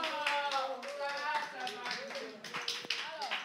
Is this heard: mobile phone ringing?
no